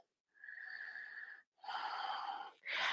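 Slow yoga breathing: one long audible breath, a short pause, then a longer, stronger breath and the start of a third, close and airy with no talking.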